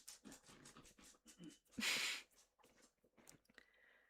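A pet dog pants and chews close by, with quick breathy puffs, a sharp snort or sneeze in the middle, and faint clicks and background noise.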